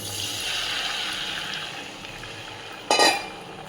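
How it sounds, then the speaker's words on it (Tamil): Tamarind water poured into a hot pan for garlic tamarind curry, a steady watery hiss throughout, with a sharper burst of splashing and sizzle near the end, close and moderately loud. "இதுக்கப்புறம் நீங்கள் கரைச்சி வச்ச புளி தண்ணி ஊற்றிடுங்க"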